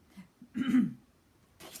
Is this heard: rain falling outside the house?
no